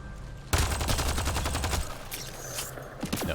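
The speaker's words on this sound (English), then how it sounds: "No, he's got the sniper rifle. That's why I kept hearing it." Sniper rifle fire in a video game bursts in abruptly as a rapid string of loud, sharp shots, then trails into scattered cracks with no one talking.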